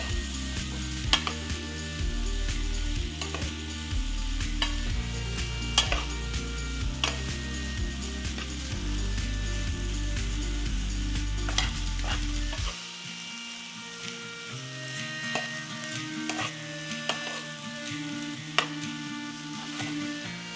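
Napa cabbage sizzles and fries in a hot pan beside cooked ginger beef, a loud continuous crackle with occasional scraping stirs and a low hum underneath throughout.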